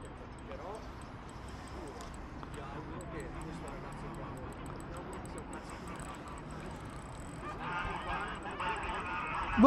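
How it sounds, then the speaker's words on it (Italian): Geese honk repeatedly in the distance, their calls overlapping against a noisy outdoor background, growing a bit louder toward the end. "tanto ci sono le oche lì che si lamentano."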